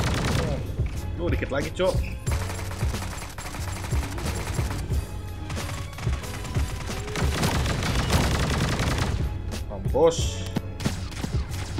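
Gunfire in the video game Sausage Man, repeated bursts of shots and booms over several seconds, mixed with excited talking from a player throughout.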